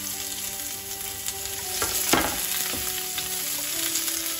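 Chopped onion sizzling and frying in a pan for fettuccine pasta, a steady close crackle with a few louder stirring scrapes partway through.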